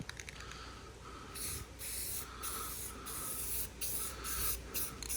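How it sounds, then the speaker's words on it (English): Spray gun laying first light coats of new paint along a car's sunroof edges, a series of short hissing bursts separated by brief pauses, close and fairly quiet, with no talking. "This is first sprays of the new color."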